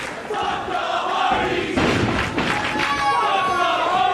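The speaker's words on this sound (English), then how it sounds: "Listen to the crowd is going crazy for Julo." A wrestling crowd at a 2001 CZW event roars and cheers loudly and continuously, with thuds from the ring and shouting voices mixed into the din.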